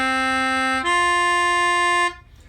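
A mountain dulcimer sounds a perfect fourth interval: one sustained plucked note, then a second, higher note ringing clearly together with the first for over a second before both cut off, with no voices.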